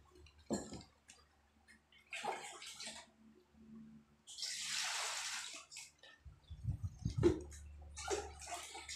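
Running water rinses kitchen utensils and dishes at a sink, in short splashing bursts with a longer steady stream in the middle and faint clinks of metal and dishware.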